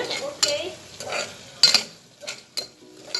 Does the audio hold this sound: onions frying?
yes